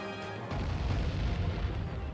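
An explosion in Sly 3 goes off with a sudden loud boom, then a rumbling, crackling tail that lasts a couple of seconds.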